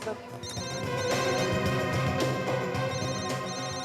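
A phone ringtone plays continuously and fairly loud, a layered electronic melody that fills the scene.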